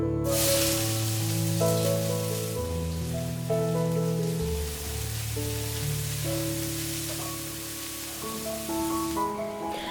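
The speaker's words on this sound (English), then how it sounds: "heat oil in a pan and add chopped onions into this" Chopped onions sizzle in hot oil in a pan, a steady, close crackling hiss that fills the whole stretch beneath a continuous layer of background music, with no talking.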